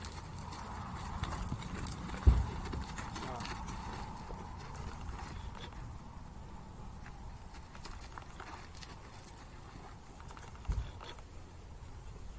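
Small horses' hooves clip-clop softly and steadily at a slow pace, fairly quiet against a low background rumble, with a couple of sharper knocks.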